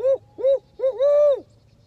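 A series of clear, resonant owl hoots in a quick rhythm: two short calls, then a pair running together into a longer drawn-out hoot, nearby and quiet otherwise.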